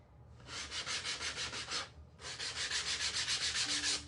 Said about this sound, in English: I'm going to grab the sanding pad and bring back some wood